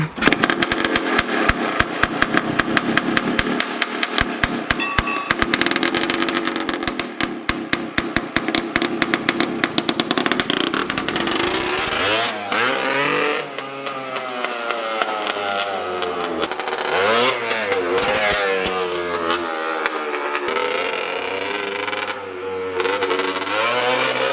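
A loud, buzzy 250cc Suzuki two-stroke engine in a Honda ATC trike revs hard and close for a long stretch, its pitch rising and falling repeatedly as the throttle opens and closes.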